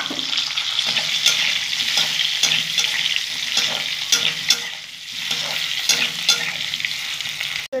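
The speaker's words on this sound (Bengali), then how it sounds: "আলুটা ভেজে নেব" Potatoes fry in oil in a pan as the cook stirs them, making a loud, close, continuous sizzle with brief scraping stirs in a steady rhythm and no talking.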